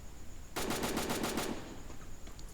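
A short, rapid burst of MP40 submachine gun fire in a shooter video game, about eight evenly spaced shots over one second, faint against a steady background hum.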